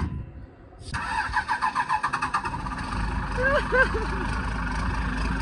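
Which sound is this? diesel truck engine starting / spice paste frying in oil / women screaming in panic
diesel truck engine starting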